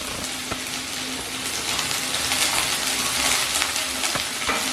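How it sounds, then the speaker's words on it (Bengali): Bitter gourd pieces fry in oil over a low-to-medium flame, giving a steady broadband sizzle throughout with a few sharp clicks near the start and end. "এবার আমি প্রথমে উচ্ছেগুলো ভেজে নেব।"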